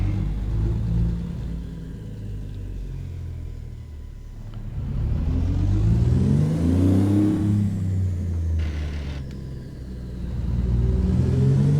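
In the video game American Truck Simulator, a truck engine rumbles and revs as the rig gets moving. The engine pitch rises and falls across several gear changes and stays steady and prominent throughout, with no talking.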